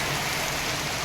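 Heavy rain pouring down at a farm home in the village of Pimpri Dukri, a dense, steady hiss of falling water, brief and continuous with no voices.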